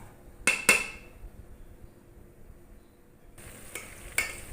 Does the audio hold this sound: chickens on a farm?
no